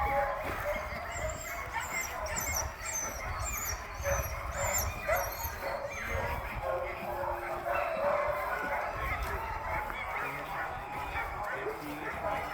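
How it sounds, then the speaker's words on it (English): Several sled dogs bark and yip excitedly nearby at their kennels, a busy overlapping chorus with whines mixed in, while people talk underneath. "As you got closer to the kennels, you could really hear the excitement of the dogs."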